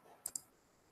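Two quick computer mouse clicks, close and crisp, in quick succession against a quiet room background while working in a spreadsheet's pivot table.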